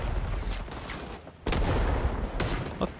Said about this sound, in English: That's our artillery good.